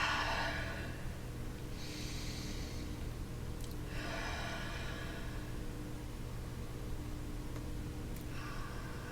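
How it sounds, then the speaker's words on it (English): Slow, deep breaths during a quiet ASMR Reiki session, several soft airy inhales and exhales spaced a few seconds apart, close and gentle over faint background hiss. "Taking 3 deep breaths."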